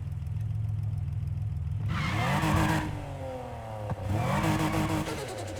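A car engine in NFS Heat revs hard in two rising bursts after a low steady idle, with pitch sweeping upward and a brief tire chirp between the revs.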